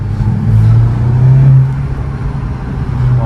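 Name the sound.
Volkswagen Golf 7 GTI Performance engine heard through open windows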